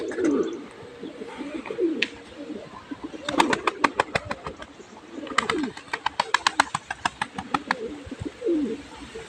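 A pigeon coos up close in low, murmuring bursts, joined by rapid clicking patters in between.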